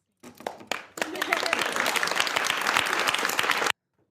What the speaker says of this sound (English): And everybody's clapping and cheering and smiling.